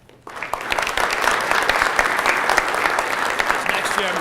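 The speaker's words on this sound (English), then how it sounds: "everybody should round of applause for Neil" Steady applause from an audience at a rugby union annual general meeting, starting abruptly after a brief quiet moment and holding at full strength, dense and close.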